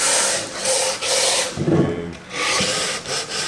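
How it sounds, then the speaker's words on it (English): Rhythmic back-and-forth rasping of a sanding block worked over the wooden base of a Dual 1019 turntable, close and loud, in several strokes with a brief pause in the middle. "ease it down with this sanding block"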